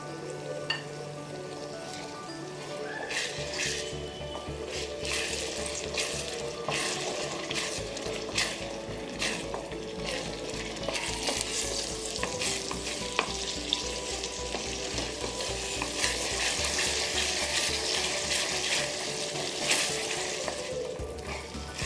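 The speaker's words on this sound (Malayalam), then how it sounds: "ഇനി ഇതിലേക്ക് 2 വലിയ തക്കാളി അരച്ചെടുത്തത് ചേർക്കാം" Ground tomato paste fries and sizzles steadily in a pan for chicken butter masala, with a continuous loud crackle and repeated scraping stirs, no voices.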